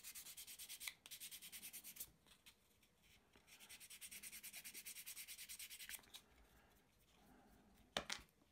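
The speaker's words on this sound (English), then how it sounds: "So sanding the roof section of the roundhouse," Steady back-and-forth rasping strokes of sandpaper on the wooden roundhouse roof of a 1/84 HMS Victory model, rhythmic and close, pausing briefly before resuming in quick bursts.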